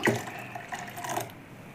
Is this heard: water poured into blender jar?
yes